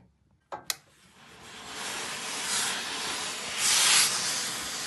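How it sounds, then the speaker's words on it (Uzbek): A steam iron hisses steadily as it presses fabric laid over cardboard, with a couple of sharp clicks at the start and the hiss swelling twice during the pass. "Ichida kardon, ustidan hozir dazmol qilamiz."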